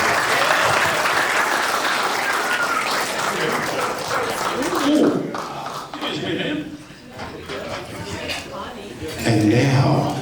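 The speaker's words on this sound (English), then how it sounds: "Give him a big round of applause." Wedding guests applaud at a reception at Panorama House, loud dense clapping that fades midway, with laughter and voices, then swells again near the end.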